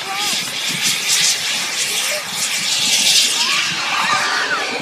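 An RC model Eurofighter jet flies past at a model flying display, a loud steady jet roar with shifting whine filling the scene, while a voice talks over it.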